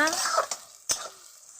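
Fish frying in hot oil, a close loud sizzle with a couple of sharp utensil scrapes as pieces are stirred, fading to a softer sizzle at the end.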